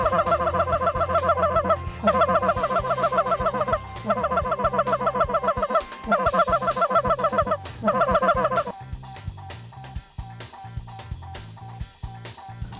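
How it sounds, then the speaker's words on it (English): A dense flock of geese in Texas honks loudly and continuously, overlapping calls filling the air, thinning slightly toward the end with scattered honks still close by. "That's where all the geese are."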